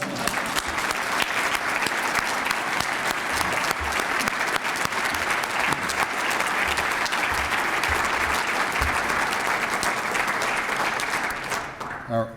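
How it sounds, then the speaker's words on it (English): An audience applauds an engineering award winner at a ceremony, with loud, sustained, dense clapping from a large crowd that fades away at the end. "This is a good moment to applaud."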